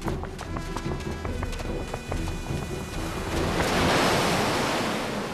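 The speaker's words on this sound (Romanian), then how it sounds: "Se pare că râul a venit la noi." Floodwater from an overflowing river surges in as a continuous rushing, crashing wash of waves that builds and grows louder toward the end, with no voices.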